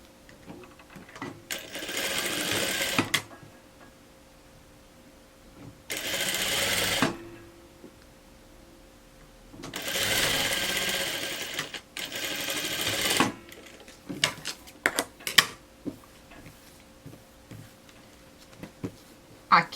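A sewing machine stitches a blouse hem in three long, loud runs, each a few seconds, separated by pauses with light handling clicks and scattered ticks.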